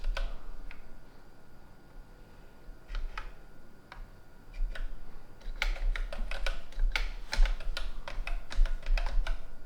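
Keys clatter on a ZX Spectrum home computer's rubbery keyboard as a BASIC command is typed, sparse presses at first, then a quicker, denser run of clicks close to the mic.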